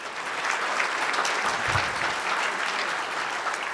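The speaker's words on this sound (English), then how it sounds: "Please give them a round of applause, too." Audience applause for newly announced investors at a partnership board meeting and annual report event, steady broad clapping filling the whole moment at moderate volume, with no talking over it.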